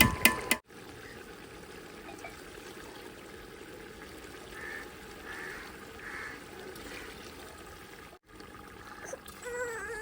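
Rice-soaking water is poured into a pot of whole-chicken biryani in a home kitchen, a steady trickling stream lasting several seconds amid a low background.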